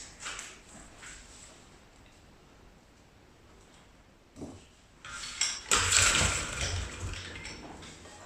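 Knife slicing through an unpeeled onion on a cutting board, with a few soft isolated cuts early on, then a louder cluster of chopping and clattering knocks near the end, fairly close.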